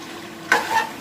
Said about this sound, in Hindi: अब हम हिलाएंगे इसे अच्छे से।